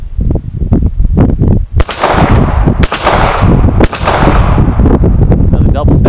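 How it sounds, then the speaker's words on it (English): Stallard Arms JS 9mm pistol firing three loud, sharp gunshots about a second apart, each with a booming outdoor tail, amid steady background noise and rustling. "So you gotta pay attention to that while you're firing."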